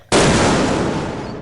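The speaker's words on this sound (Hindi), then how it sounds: "पर बम उसके हाथ में ही फट जाता है" A bomb bursts in someone's hand in a comic animation: one sudden, loud, close explosion that hits sharply after a moment of quiet and then trails off in a long rumbling decay, with no voices.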